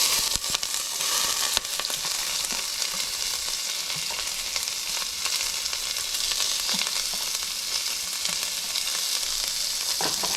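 Garlic and onion sizzle and fry steadily in a hot pan, a continuous crackling hiss with occasional brief pops and stirring, close and fairly loud with no talking.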